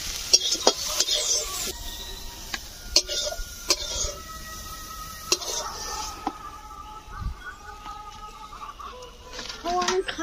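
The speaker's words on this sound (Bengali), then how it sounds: "এখন চিংড়ি ভাজা হয়ে গিয়েছে" Fried prawns stirred in a pan, with soft sizzling under sharp metal clinks and scrapes of a spatula against the pan, the clatter coming in irregular bursts close by.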